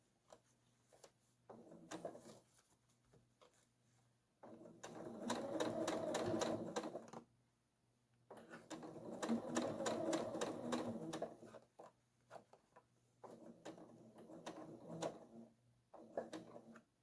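A sewing machine top-stitches a zipper on a triangle zipper bag, running slowly in bursts of steady rapid needle chatter separated by short pauses, close and fairly quiet.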